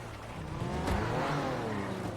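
A Jeep engine revs steadily in GTA, a continuous mid-level motor drone with a brief swell in the middle.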